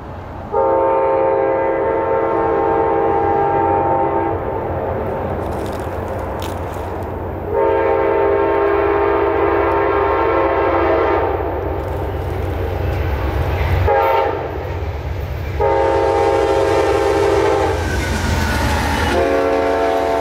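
Southbound Amtrak passenger train, the Silver Star, passing with several long, loud horn blasts sounding over a steady rumble and clatter of rail cars throughout.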